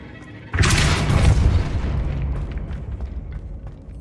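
A Confringo blasting spell explodes in Hogwarts Legacy, one loud close boom that bursts suddenly and rumbles away over a few seconds.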